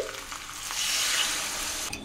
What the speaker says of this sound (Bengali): তো গরম জল দিয়ে দিচ্ছি